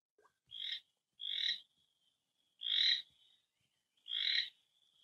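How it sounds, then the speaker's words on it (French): A three-spotted toad calls from the middle of a pond, four even, nasal croaks spaced about a second apart, close and clear against a quiet background. "Le crapaud à trois taches attend, immobile, au milieu de l'étang."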